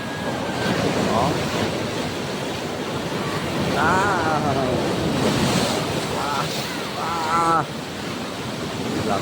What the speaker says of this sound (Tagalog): Lakas ng alon dito mga kabatis